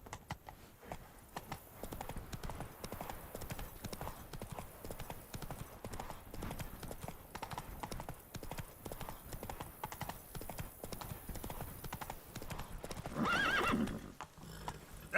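Roach the horse galloping in the video game The Witcher 3, a fast continuous hoofbeat rhythm close up, ending in a loud whinny near the finish.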